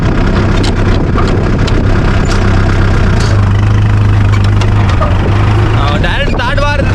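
A 45 HP Kubota track harvester runs steadily in a rice field, its loud, close engine droning and idling with a rough mechanical rumble while someone talks over it.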